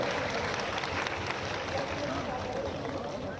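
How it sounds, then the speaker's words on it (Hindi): Applause from an audience welcoming honoured guests at a women's mock parliament event in Bhopal, a steady, dense wash of clapping filling the hall throughout, with voices faintly mixed in. "दर्शक दीर्घा से अनुरोध है कि वह तालियों की गड़गड़ाहट से हमारे माननीय अतिथियों का स्वागत करें।"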